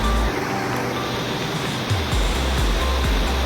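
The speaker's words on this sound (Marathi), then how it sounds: "कसा हा धबधबा एक नंबर असं पाणी" Steady roar of a waterfall near Lonavala filling the whole clip, broadband and loud, with a few low thumps of wind buffeting underneath.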